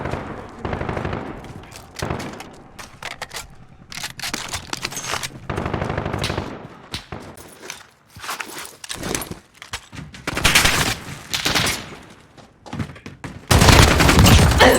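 Dense in-game gunfire from Call of Duty Warzone, with machine-gun bursts and rattling volleys coming in loud irregular clusters throughout and a heavy barrage at the end.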